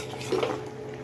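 A pot of aviyal, a mixed vegetable stew, being stirred with a utensil, giving a brief clinking scrape against the pot near the middle before quiet simmering background resumes.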